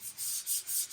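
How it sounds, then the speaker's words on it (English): Sanding 2K primer on the body of a 1951 Vendo 39 Coke machine during restoration, heard as close, rhythmic back-and-forth rubbing strokes in about three quick passes, fairly quiet and with no talking. "And I use their 2K primers. That's what we're sanding on right now."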